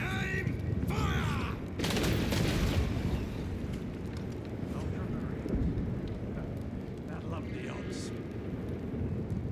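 A firing squad in Space Marine 2 lets off a single loud, sharp volley of gunfire, ringing out over dense battle ambience and voices.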